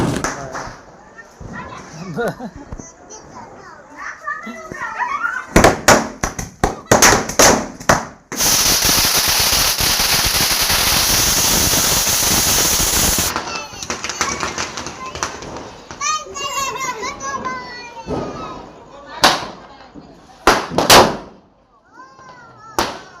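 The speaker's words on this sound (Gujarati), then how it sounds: "છોકરા ફટાકડા ફોડે" Loud Diwali firecrackers burst in quick successive bangs in a village, then a long crackling string of explosions roars for several seconds, with children's voices and shouts between blasts.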